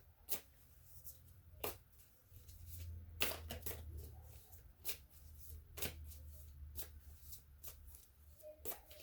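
Tarot cards being shuffled in repeated crisp riffling bursts, fairly close and clear, with a low background hum and no talking.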